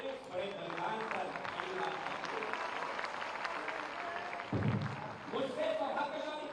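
An audience applauds at a memorial ceremony unveiling a statue of former Prime Minister Atal Bihari Vajpayee, steady clapping mixed with voices and crowd noise, with a brief low thump near the end.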